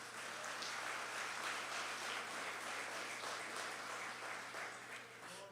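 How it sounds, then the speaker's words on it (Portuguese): A church congregation applauds during an evening worship service, a steady, dense wash of many hands clapping that stays faint and distant throughout. "Você pode aplaudir o Senhor Jesus?"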